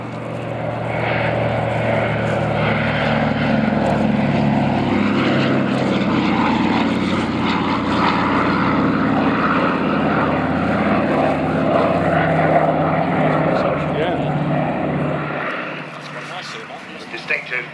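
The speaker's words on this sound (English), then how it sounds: "distinctive rasp there of those twin Wasp radial engines" Twin Pratt & Whitney Wasp radial engines of a Douglas Dakota at an autumn airshow at Duxford drone loudly and steadily for about fifteen seconds with a rasping tone, then fade out abruptly near the end.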